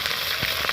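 Okra sizzles in hot oil in a wok alongside onions, a brief, steady hiss with soft crackles heard close up.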